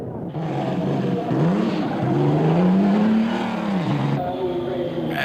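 A 4.5-litre Invicta racing car climbs the hill at Shelsley Walsh, its engine rising in pitch through the gears as it approaches, then falling away, loud over a rough old recording with background noise.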